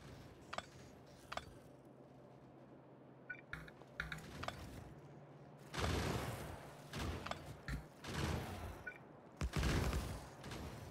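Scattered turret gunfire aimed at biters in Factorio, a game on a dark deathworld map, coming in short clusters of shots of moderate loudness, heavier toward the end.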